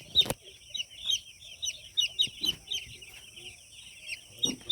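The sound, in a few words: poultry chicks chirping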